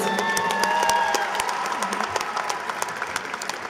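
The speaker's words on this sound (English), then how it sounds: "today you can applaud yourself for this wonderful accomplishment" Graduation ceremony audience applause in a large hall, continuous crowd clapping with distinct sharp claps scattered through it, gradually thinning out toward the end.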